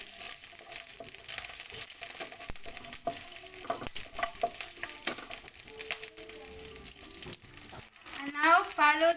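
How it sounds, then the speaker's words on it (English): A bay leaf, cinnamon stick, black pepper and star anise sizzle in a pan for squid adobo while being stirred, a steady close frying hiss broken by scattered scrapes and clicks, with a brief brighter clatter near the end. "Just give a good mix."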